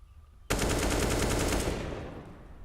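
A rapid, loud automatic burst is fired through a wall in Counter-Strike, with the shots running together for about a second and a half before tailing off.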